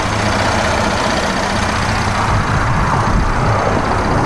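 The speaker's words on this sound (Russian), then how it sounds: "Работа двигателя отличная." A 2010 Cadillac SRX with a 3.0 V6 engine idles steadily up close, a continuous low rumble with no talking over it.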